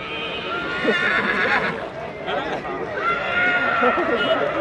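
A four-year-old Nukra mare whinnies near and loud at a stud farm in Punjab, amid steady background voices and chatter, with some shuffling of hooves.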